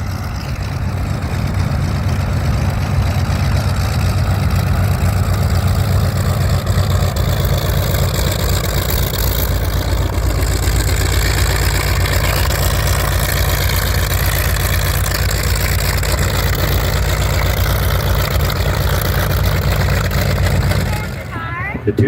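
Two Hawker Sea Fury fighters sit at the end of the runway at an air show with their big piston engines idling, a loud, steady, deep rumble that runs almost unbroken for about twenty seconds before briefly dipping at the end.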